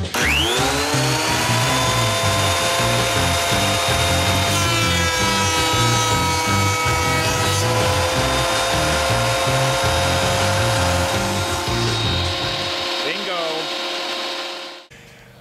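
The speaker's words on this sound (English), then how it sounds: "I'm super excited that the boards went through the planer." A thickness planer feeds MDF boards through, a loud, steady machine whine with grinding cutter noise that holds for about thirteen seconds before spinning down at the end.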